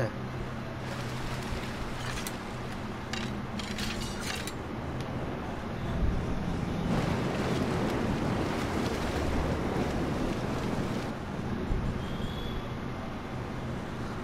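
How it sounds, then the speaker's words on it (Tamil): Wind whistling and rushing in the video game Shadow of the Colossus, a steady broad gusting roar that swells midway, with a faint high whistle at times. "அப்பா காற்று கீச்சிட்டு போகுது"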